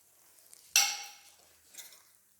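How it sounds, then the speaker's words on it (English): Coconut strips frying with cashews in a pan, a quiet background sizzle with one sharp close clatter of a utensil against the pan and a fainter scrape a moment later. "The coconut has to fry till it becomes dark brown."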